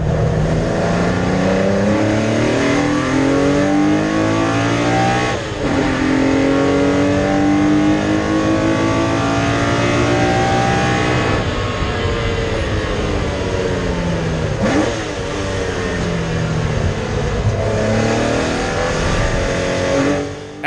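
A TVR Tuscan race car racing on a wet Donington Park circuit, its engine roaring loudly and continuously with rising and falling revs through gear changes, near and dominant throughout, with no voices.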